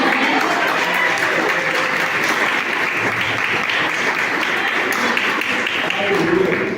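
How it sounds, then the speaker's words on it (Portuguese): Loud, sustained applause from a large church congregation, with dense clapping filling the whole stretch and some voices mixed in. "Você pode aplaudir?"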